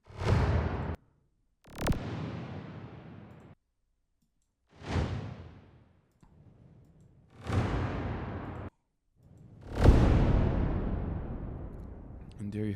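Synthesized thunder built with convolution rolls in five separate booming hits, each a sharp crack that decays into a long rumble, with short silent gaps between them.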